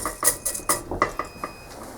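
Dry macaroni, snapped in two, drops into a metal saucepan in a series of sharp clattering ticks and rattles, close and distinct, with no talking.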